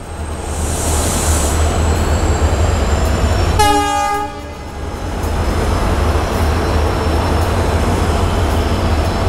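At Dibrugarh railway station, Rajdhani trains stand with a loud steady engine rumble, and a single long train horn blasts near the middle before the idling drone resumes.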